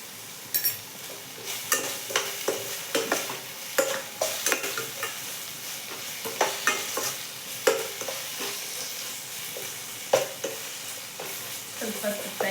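A fenugreek mixture with green chili paste fries in a pan while a spoon stirs it, repeated sharp scraping strokes at an even rhythm over a continuous close sizzle.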